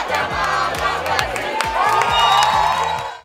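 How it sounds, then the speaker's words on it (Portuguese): Football fans packed into a bar roar and cheer a goal, a dense crowd of shouting and whooping voices swelling steadily over a rhythmic low thumping beat. "Os gols foram comemorados em êxtase."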